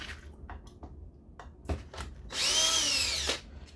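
Power driver backing T27 screws out of a Stihl MS 201 TC chainsaw during wiring harness replacement, with several short clicks and taps, then one loud close whirring burst of about a second.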